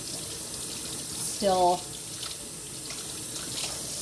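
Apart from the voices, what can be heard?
cold tap water running while rinsing homemade butter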